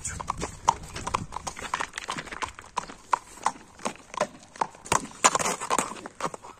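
Horse hooves clip-clopping in a brisk, steady rhythm close by on hard ground, with a few quieter pauses between strides and no talk.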